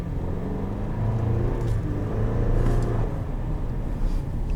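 A 2020 Chevrolet Silverado Custom Rally Edition pickup with the 2.7-liter turbocharged engine running, a steady deep rumble with a low hum, heard from inside at moderate, even loudness.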